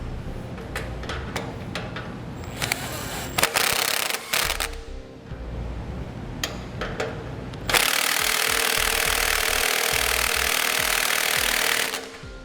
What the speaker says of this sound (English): We're going to tighten this down using the nut side only.